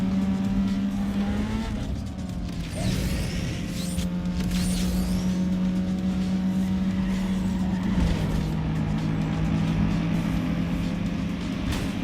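Racing car engine in Need for Speed Underground 2, a steady high engine drone with two abrupt gear-shift drops, plus whooshes and tire noise from the game, no one talking over it.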